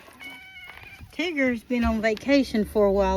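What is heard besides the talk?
cat meowing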